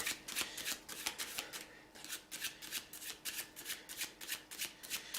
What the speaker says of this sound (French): on termine le mélange ici